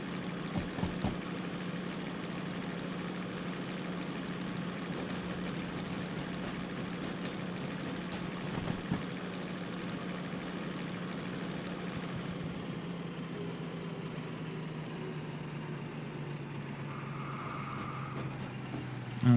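A DM3 diesel locomotive idles in the Derail Valley game: a steady, droning engine hum that runs unbroken for most of the stretch, then thins and settles toward the end, with no talking.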